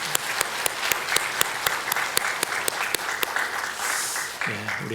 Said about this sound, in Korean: 우리 한번 힘찬 격려의 박수 한번 할까요?